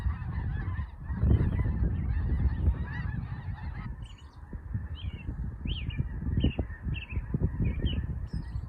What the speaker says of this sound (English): Wow, it's a lot of snow geese.